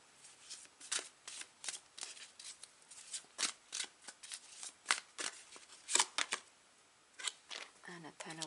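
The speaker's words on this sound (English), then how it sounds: "Start to shuffle for last card." A deck of tarot cards is shuffled up close, giving a rapid run of crisp riffling and slapping bursts with brief pauses between them, quiet and dry.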